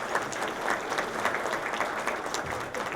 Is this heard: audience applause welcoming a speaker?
yes